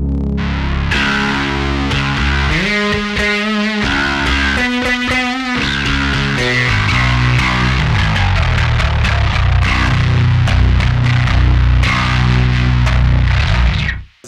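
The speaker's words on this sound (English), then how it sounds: "Let me go to distortion." A bass guitar driven through heavy distortion, gritty and buzzing, playing a run of sustained notes and quick slides, loud and close with no talking.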